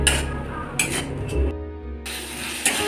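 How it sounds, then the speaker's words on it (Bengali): Spices frying and being stirred in oil in a pan with Kashmiri chilli powder, a clattery, scraping mix of metal-on-pan strokes and sizzle coming in uneven bursts, loud and close, with a brief quieter gap midway. "এইবার আমি ভালো করে মশলাগুলোকে কষিয়ে নেব পুরো তেল ছাড়া পর্যন্ত।"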